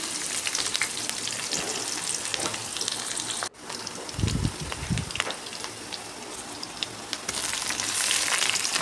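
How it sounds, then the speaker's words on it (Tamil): Onions, mustard seeds and curry leaves sautéing in hot oil give a dense, continuous crackling sizzle, close and loud, with a brief break partway and a few low knocks of a pan. "வெங்காயம், கருவேப்பிலை போட்டிருக்கேன். நல்லா வதங்கட்டும்."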